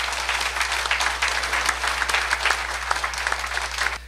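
Sustained audience applause for two presenters at a church debate, a dense, even wash of many hands clapping, with a low steady hum beneath it.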